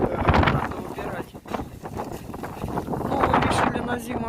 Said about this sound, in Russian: ветер страшный